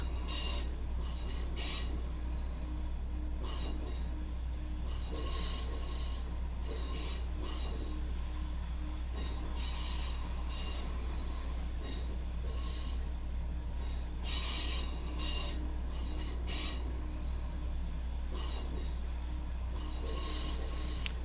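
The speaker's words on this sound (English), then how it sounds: "there's lots of wheel flange, which is a nice sound" Train wheels squeal repeatedly in high, screeching bursts of flange squeal over a continuous low rumble of rolling rail cars, from a Class 170 in a train simulator game.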